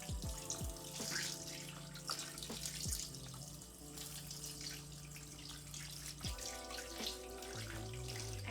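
Hot water runs from a household tap to rinse out a washcloth holding leftover baking soda, a steady splashing flow with intermittent dripping and handling thuds close by.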